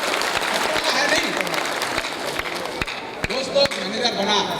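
Scattered, uneven claps from an audience at the Patna Success Day 2016 event ring out as distinct sharp hits, with people talking alongside.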